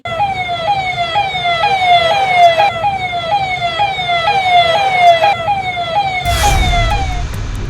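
An ambulance siren wails nearby in a repeating rising and falling pattern, loud and steady. Traffic noise rumbles underneath, and a heavy whoosh comes near the end.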